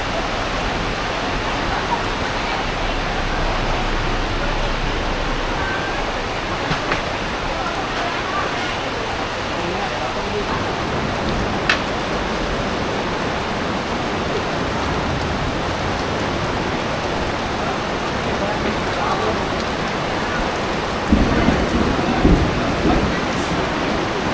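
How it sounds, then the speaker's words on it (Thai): Steady, dense rain roars without pause, a broad wash of noise with gusty wind mixed in, and a few louder bursts near the end. "ฝนตกแล้วค่ะ ลมแรงด้วยค่ะ"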